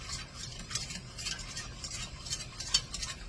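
Banana pudding mixture being stirred until thick, a soft, steady scraping and swishing of a spoon in a pot, quiet and close, with no talking.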